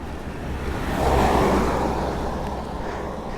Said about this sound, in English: Car coming, this is the first car I've seen all day,